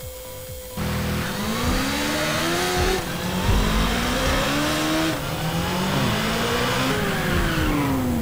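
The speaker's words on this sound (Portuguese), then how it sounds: "Vamos começar aqui fazendo a demonstração de uma moto." A motorcycle engine from GTA V, modded into GTA San Andreas, revs loudly and repeatedly. Its pitch climbs and falls in several sweeping surges after a brief quieter start.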